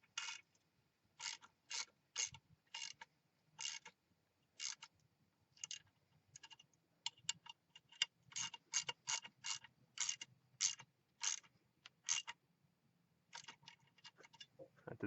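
Fittings on a furnace gas valve being tightened during a natural gas to propane conversion, giving a series of quiet, short ratcheting clicks in irregular bursts, close up.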